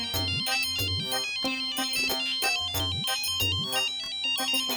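A phone ringtone repeats a bright, melodic electronic pattern in quick regular cycles, loud and close, with no voices over it.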